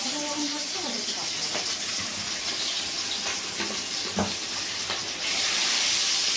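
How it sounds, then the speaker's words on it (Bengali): A small amount of oil heats in a wok for a Bengali katla fish curry, hissing and crackling steadily up close, with stray clatter and watery background noise and a louder surge of sizzle near the end. "কড়াইয়ে এই অল্প পরিমাণ তেল দিয়ে তেলটা এবার আস্তে আস্তে ফুট ধরছে।"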